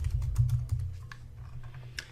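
Someone types a name on a computer keyboard, producing a quick run of close, clicking keystrokes with uneven spacing and no talking over them.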